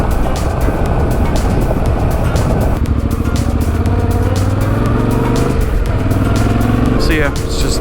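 A motorcycle rolls over loose gravel on a long trail ride, its engine droning steadily up close with crunching road noise underneath, while a rider speaks over it throughout.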